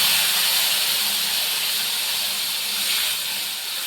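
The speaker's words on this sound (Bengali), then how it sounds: "এবার আস্তে করে তরকারিটা আমি এর মধ্যে দিয়ে দেব।" Chopped vegetables for a Bengali sukto with eggplant, bitter gourd, green banana and bori go into hot oil in a wok, giving a loud, steady, hissing sizzle that holds throughout and eases slightly at the end.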